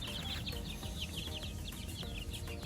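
Gamefowl roosters at a game farm cluck and call in a dense, continuous flock chorus, with bright repeated calls over a steady low background rumble.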